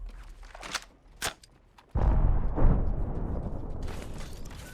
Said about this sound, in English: Everything I've got, it's yours. Reloading.